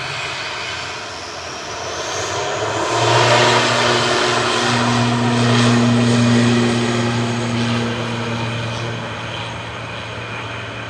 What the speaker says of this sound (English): Logan Air's ATR 72600 LMTG departing to the Isle of Man